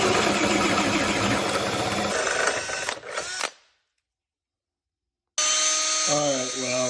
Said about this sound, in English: So now I'm gonna drill my pilot hole